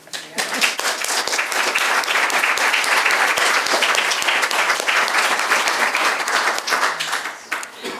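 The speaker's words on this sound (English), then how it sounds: "I encourage you right now to give them some applause for being here and for running" Audience at a town Selectboard candidate forum applauds for the candidates, a full, sustained round of clapping that holds steady for several seconds before tapering at the end.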